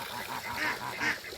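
Call ducks by a backyard waterfall pool give soft, quick nasal quacks, a few short calls close by over a steady background of trickling water.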